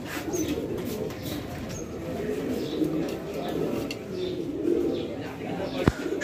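Pigeons coo in soft repeated bursts at a pigeon dealer's stall, mixed with other birds and steady background voices, with a brief sharp knock near the end.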